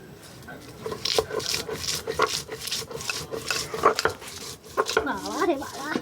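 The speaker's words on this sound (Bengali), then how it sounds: "আর আমাদের এখানটায় হচ্ছে পাটাতেই বাটা হয়।" Spices are ground by hand on a stone pata slab with a grinding stone, giving repeated close scraping and rubbing strokes in an uneven rhythm, with a voice speaking faintly near the end.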